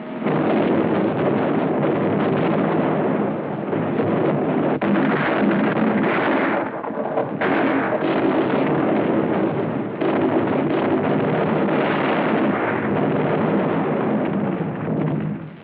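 Continuous heavy rumbling of distant naval gunfire and explosions during the Second Sino-Japanese War, dense and booming with no clear gaps, loud throughout.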